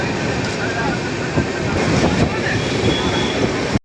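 Steady, loud rumble of a train pulling out of Nadiad railway station, broadband rolling noise held throughout with no voices, cutting off abruptly at the end.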